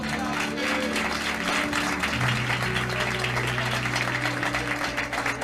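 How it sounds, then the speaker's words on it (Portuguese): A church congregation gives loud, sustained applause during a service, the clapping dense and continuous throughout, layered over a steady low hum of music or room sound. "E dê uma salva de palmas a Jesus"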